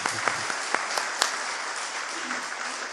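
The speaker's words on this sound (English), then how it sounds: "if everybody could maybe just give him a round of applause" Conference audience applause at a Scottish UFO and paranormal conference, a continuous wash of clapping with a few sharper individual claps standing out near the start.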